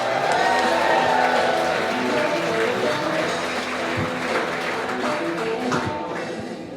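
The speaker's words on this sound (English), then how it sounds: "Thank you for that very short-lived applause, everybody." Brief applause from a comedy club audience in Lexington greeting the next comic, dense and steady, with crowd noise and some talk mixed in before it thins out near the end.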